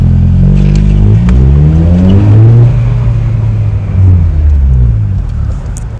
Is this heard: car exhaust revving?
yes